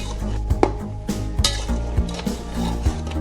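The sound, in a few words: stirring beef nehari in a pot until the oil rises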